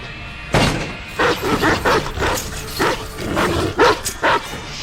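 A dog barks repeatedly and loudly nearby, a string of sharp barks with short gaps between them, with no voices.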